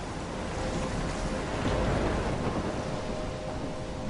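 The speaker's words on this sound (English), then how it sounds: "I'm trapped in a storm?" Thunderstorm in the video game Life Is Strange: a dense, steady roar of rain and wind with low rumbling thunder, loud and continuous with no talk over it.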